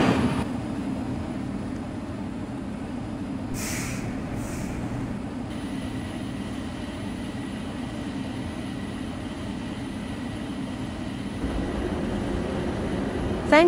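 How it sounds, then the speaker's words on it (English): A Roblox airport transit train pulls away from a station platform, a steady rumbling drone of the rail car rolling on with a brief chime-like tone early and a soft rattle near the end. "Please hold on, we are leaving the station."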